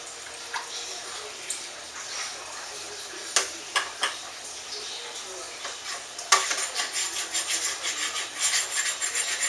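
A sterilized spoon stirs a homemade peach wine mixture in a container, scraping and clinking against the sides with sporadic knocks that turn into a steady, rhythmic swishing toward the end.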